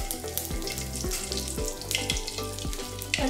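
Asafoetida hits hot oil in a pan and crackles into a steady, close sizzle, with rhythmic clinks of a spoon or utensil against the pan repeating about every half second.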